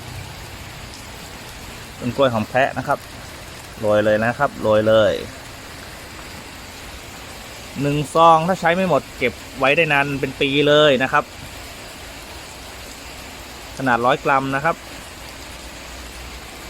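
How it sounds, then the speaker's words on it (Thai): Heavy rain pours steadily outdoors and is heard from under cover as a constant hiss. Someone talks in short bursts over the downpour. "แต่วันนี้ฝนตกหนักมาก"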